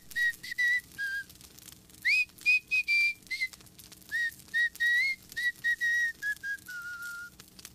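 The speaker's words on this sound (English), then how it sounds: "All I remember is one of the henchmen whistling." A person whistles a lilting tune in short, clear phrases, alone and fairly close, with brief pauses between notes.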